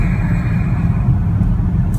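Car rolling on a deflated run-flat tyre, a steady loud low rumble of road and tyre noise heard from inside the cabin, continuous with no voices.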